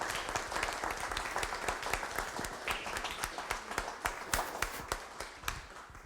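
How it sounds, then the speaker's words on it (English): An evening event audience gives its speakers a warm round of applause, many hands clapping in a steady patter of distinct claps at moderate volume for several seconds. "Let's please give a warm round of applause for our speakers tonight."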